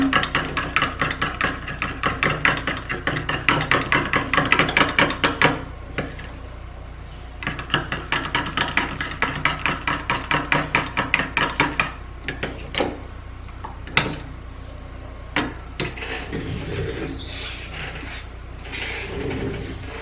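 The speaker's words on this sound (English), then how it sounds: "And then give it a good stir." A gritty sugar scrub mixture is stirred in a container with quick, regular scraping strokes in close, rhythmic bursts, broken by short pauses and then turning sparser and more uneven near the end.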